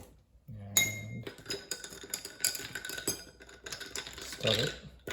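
A spoon stirs homemade iced coffee topped with ice water in a glass, clinking and rattling against ice cubes in a steady run of close, bright taps, while a voice speaks briefly at the start and near the end.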